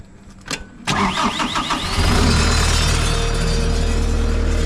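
A skid steer's engine cranks briefly with a starter whine, catches and fires up, then settles into a steady, loud, close idle rumble.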